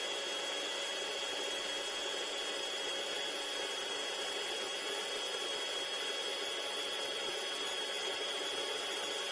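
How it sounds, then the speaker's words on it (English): A power drill bores through a 3D printer bed plate, giving a steady, even broadband whir with a high-pitched hiss that runs unbroken and fairly loud through the whole stretch, with no voices. "Okay, so we're starting to drill through now."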